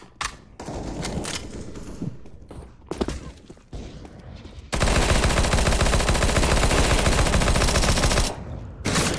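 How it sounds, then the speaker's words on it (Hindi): Gunfire in the video game CS:GO comes first as scattered shots and short bursts, then a long sustained stream of rapid automatic fire for several seconds, loud and close, before a few final shots. "इतनी गोलियां मार रहा हूँ साला मर क्यों नहीं रहा है?"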